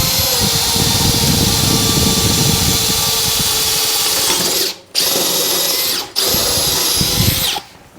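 A Makita 40V XGT GPH01 hammer drill drills a hole, running loud and continuous at full whine. The motor briefly dips twice near the end, then stops.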